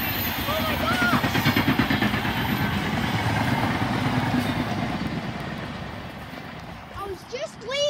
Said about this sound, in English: a train just decided to come